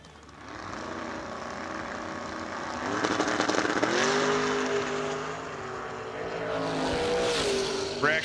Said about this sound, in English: Tim Folker, right lane in the Corvette, dial 644, going to get chased by the Camaro in the left lane